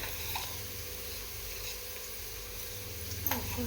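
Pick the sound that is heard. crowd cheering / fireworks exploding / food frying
food frying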